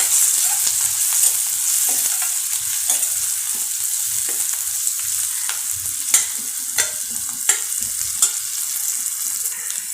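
Sabudana upama mixture is stirred in a pan with red chilli over steady frying sizzle, a spoon scraping and clicking against the pan in irregular strokes, close up with no talking.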